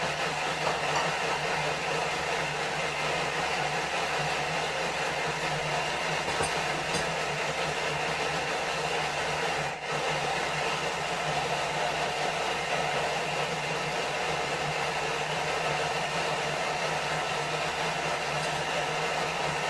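A steady, loud whirring motor drone from a kitchen food processor mixing hummus ingredients at speed 7 runs without pause, with no talking over it.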